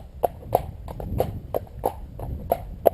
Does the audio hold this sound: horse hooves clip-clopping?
yes